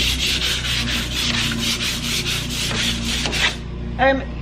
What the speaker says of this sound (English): I'm just going to use the 120 grit off my sleek brushes roll. Going to scuff sand it all over.